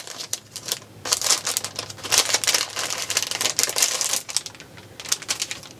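Plastic packaging around a wool mat cleaning tool being opened up close, a dense run of crinkling, rustling and sharp tearing crackles with brief pauses, loud and continuous for several seconds with no talking.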